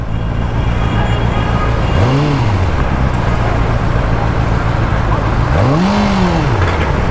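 A Bristol Kove 450R sports motorcycle on a night ride, its engine droning loud and close with two rising-then-falling rev surges as the throttle opens and eases, over constant wind and road rush.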